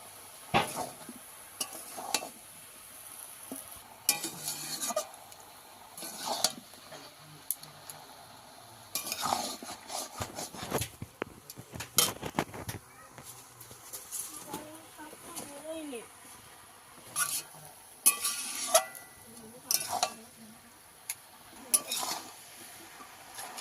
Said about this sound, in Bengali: এই রান্নাটায় যেহেতু আমি নেয়ারি মাছ দিয়েছি তাই জন্য ভালো করে কষাতে হবে।